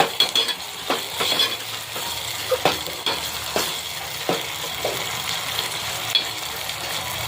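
Chili, tomato and ginger sizzle in a hot pan for samosa filling while a utensil stirs and scrapes, giving a steady close fry with repeated sharp clinks against the metal.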